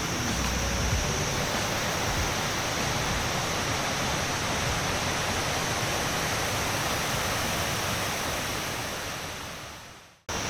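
Kuang Si waterfall in Laos roars as a loud, dense, unbroken rush of falling water, close and steady, fading briefly near the end before returning.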